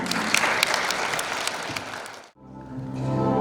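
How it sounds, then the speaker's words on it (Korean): A dense round of audience applause welcomes the poet Kim Seul-ong before a poetry recitation honoring King Sejong. It stays full and loud, then cuts off abruptly, giving way to a quieter tonal sound. "큰 박수로 맞이해 주시기 바랍니다"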